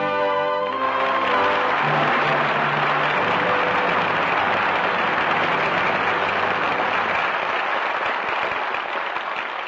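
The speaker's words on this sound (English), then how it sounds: "Applause calls back five stars who gave five brilliant performances tonight" Studio audience applause after a radio play fills the space with loud, dense, sustained clapping. A fading musical chord sits under it at first, then the clapping carries on steady and close, with no talking.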